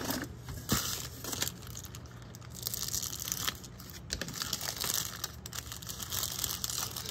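Package being opened by hand, with tearing and crinkling of packing material in continuous bursts, close and loud, no talk.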